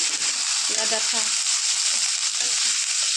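Mustard green stalks hit a hot pan with onions, giving a steady, close sizzle and frying hiss throughout, with brief stirring scrapes near the start.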